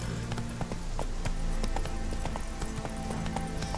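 A horse gallops in The Witcher video game, its hooves making a steady, rhythmic clip-clop that stays close and fairly loud throughout.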